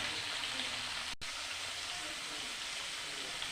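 Cauliflower and new potatoes frying with turmeric and salt, a soft steady sizzle with a brief dropout early on and faint stirring, no voices.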